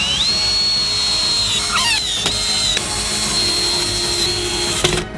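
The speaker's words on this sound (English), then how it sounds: "and tighten everything with screws." Power drill driving screws into wooden boards while building a giant wooden form, with a loud steady whine that rises in pitch and shifts several times, close up throughout.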